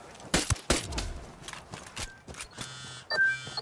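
Gunfire in Ghost Recon Wildlands: several sharp, separate shots cracking out at uneven intervals, mixed with electronic beeps and tones, fairly quiet overall with no talking.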